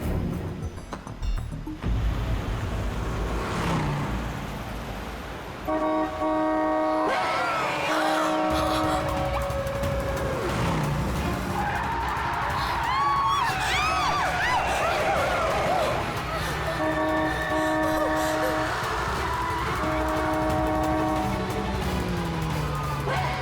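A car races along in a chase, engine roaring close and loud with rising and falling revs and tyre squeals, layered under tense dramatic background music.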